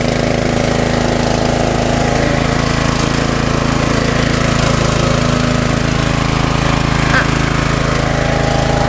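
A KAYANA 3-cylinder, 7.5 horsepower gasoline engine sprayer pump runs at a steady, loud, close mechanical drone without letup, with someone talking over it.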